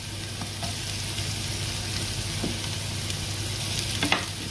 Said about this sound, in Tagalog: Tapos isunod natin ang sibuyas.